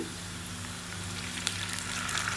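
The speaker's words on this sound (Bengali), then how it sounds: "পেঁয়াজগুলো ভাজা হয়ে গেছে, দিয়ে দিচ্ছি একটু পানি" Fried onions hiss and sizzle in a pan as a splash of water hits the hot oil, a steady close crackling frying noise over a low hum, with no talk.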